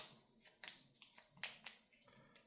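A deck of game cards gets a small, quick shuffle on a tabletop, soft papery riffling and light snaps in a few quiet bursts, close by with no talking.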